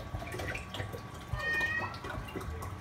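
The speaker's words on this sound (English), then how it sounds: "She's meowing. She's a hungry cat." A hungry house cat lets out a meow in a kitchen during cooking of chicken sotanghon, faint against clattering and running water, with no voices.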